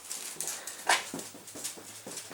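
A dog that nearly tore off a toenail whimpers softly in short, faint yelps, with scuffling movement and light pawing sounds between them.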